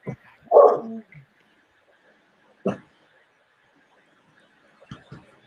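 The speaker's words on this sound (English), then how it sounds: "My dog's going." A pet dog indoors barks a few times: one louder bark early, then a single bark a couple of seconds later and a softer pair near the end, with quiet gaps between.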